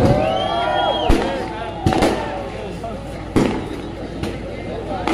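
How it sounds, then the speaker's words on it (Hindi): Firecrackers go off at an outdoor religious gathering as sharp, scattered pops and cracks amid crowd noise, under an amplified voice speaking over a loudspeaker. "ये जो पटाखेबाजी हो रही है ये हम नहीं कर रहे।"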